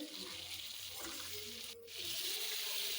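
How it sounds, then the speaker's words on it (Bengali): A large tilapia fish, rubbed with turmeric, chilli and salt, fries in a frying pan with a soft, continuous sizzle that swells a little louder partway through, faint and close. "হলুদ মরিচ আর লবণ মেখে ফ্রাই প্যানে জন্য বসিয়ে দিলাম"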